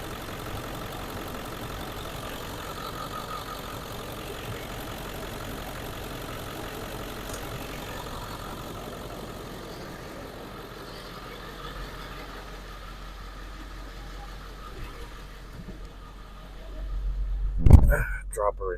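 A Cadillac engine idling with a misfiring cylinder gives a low, rough rumble that fades toward the end before a sharp bump and rattle, with no speech heard.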